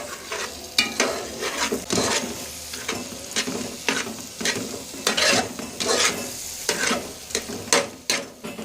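Carrot halwa mixture being stirred in a pan, with repeated scraping strokes and clinks of the spoon against metal over a soft frying sizzle, fairly close and with no talking.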